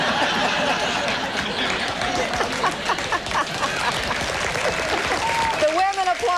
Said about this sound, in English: The women applaud.